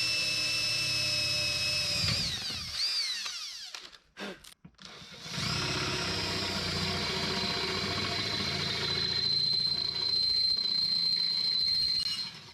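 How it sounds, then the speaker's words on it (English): A power drill boring bolt holes through a racing seat bracket and risers in a Camaro ZL1 1LE gives a steady, close motor whine that stops briefly in the middle, then resumes at a sustained, loud pitch. "we're probably gonna have to drill maybe one, maybe two holes so bolts can go down through"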